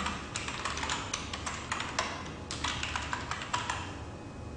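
Username and password being typed on a computer keyboard, a quick, steady run of close, light key clicks that eases off near the end, with no talk.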